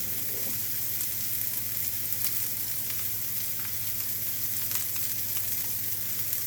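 Breakfast sausage frying in a pan for a sweet and savoury breakfast sandwich, a steady, even, close sizzle that holds without a break and with no talking.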